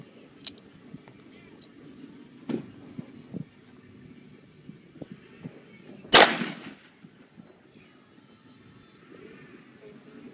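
A single sharp, loud gunshot from a .357 Magnum Model 19 revolver firing a 125 grain hollow point round, cracking out mid-clip and trailing off in a brief echo, with a few faint knocks and handling sounds around it.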